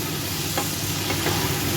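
Onion greens, eggplant, beans and small shrimp sizzle in a pan over low heat, a continuous close crackle and hiss with a couple of soft stirring scrapes and no talking.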